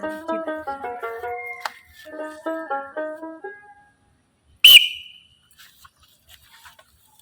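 Someone blows a whistle during a lighthearted guessing game, producing a run of short, bright tooting notes in a quick rhythm for a few seconds, followed by one sharp loud blast and then quiet.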